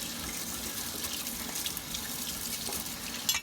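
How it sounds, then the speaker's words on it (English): Kitchen tap water runs steadily into a sink while a carrot is rinsed under it, a continuous close hiss and splash that cuts off abruptly at the end. "Rinse it a little."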